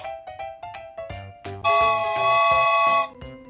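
A train whistle blows one long, steady, bright blast, set between short bouncy notes of background music.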